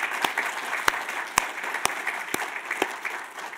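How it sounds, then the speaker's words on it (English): Applause from a lecture audience for the Mittal Institute team, a steady wash of many hands clapping at moderate distance with a few sharp, prominent claps cutting through, no talking over it. "could we just have a little bit of a round of applause for the team"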